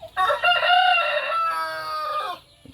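Chickens on a small farm beside a cornfield crow loudly and close, one long drawn-out cock-a-doodle-doo lasting about two seconds, with clucking mixed in and no talking.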